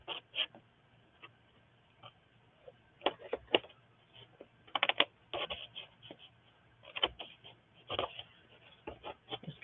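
A cutter trimming a masterboard, with light, close, irregular scraping and snipping strokes in quick bursts, some clustered and some spaced apart.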